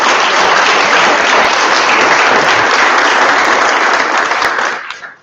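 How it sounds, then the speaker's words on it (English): A panel discussion audience applauding steadily and loudly for about five seconds, the clapping fading out quickly at the end. "So can we give a round of applause and welcome?"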